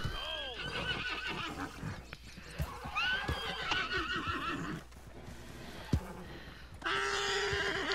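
A horse whinnies loudly in Red Dead Redemption 2, its pitch rising and falling, with hoof clip-clops and game sound effects around it and no talking.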